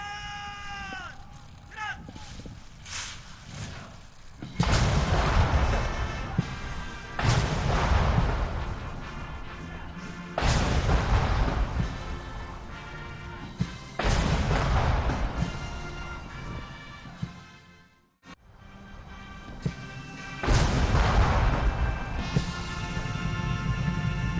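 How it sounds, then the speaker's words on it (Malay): A 21-gun cannon salute fires at a royal ceremony, heavy booms landing every few seconds, each with a long rumbling tail, while the national anthem plays underneath. "21 das tembakan meriam dilepaskan dengan diiringi lagu kebangsaan"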